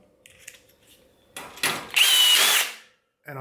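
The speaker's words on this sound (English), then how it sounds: "Today I'm going to show you guys an awesome cordless drill attachment that allows you to install pop rivets super fast and easy." Cordless drill fitted with a pop rivet attachment, whirring in short bursts with a louder sustained run as a rivet is set, then stopping, heard up close with no talk.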